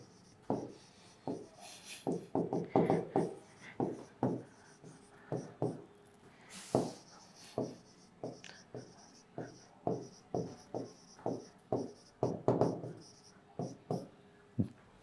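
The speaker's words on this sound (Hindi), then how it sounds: "मैं लिख देता हूं।" A pen or marker scratches out handwriting during a math lecture, with short strokes coming in quick, irregular clusters, close and quiet, with a few brief pauses and no speech.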